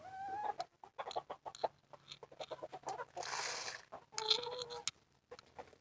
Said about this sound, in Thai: นี่น้องไก่มากินเลยพี่น้อง